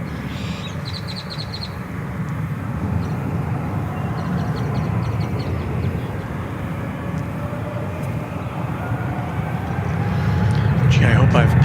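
An American Airlines jet takes off at DFW Airport, a loud broad engine roar that holds steady and swells toward the end, with faint bird chirps nearby.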